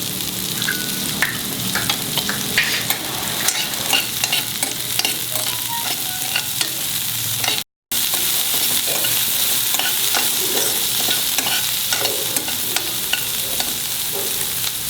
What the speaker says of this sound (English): Put the finely chopped onions and make it translucent.